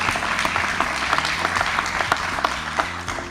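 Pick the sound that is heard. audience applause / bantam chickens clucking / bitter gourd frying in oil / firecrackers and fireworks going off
audience applause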